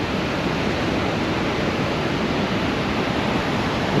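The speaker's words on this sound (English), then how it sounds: "Observe the power of its interlocking waves." Steady, dense wash of water waves, like continuous surf or rushing water, holding an even loudness throughout with no voices.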